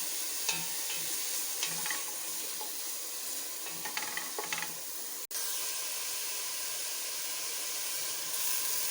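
Onions sautéing until brown and translucent for veg pulao, giving a steady close sizzle and hiss with a few scraping stirs early on, then a brief cut and a continuous, even fry.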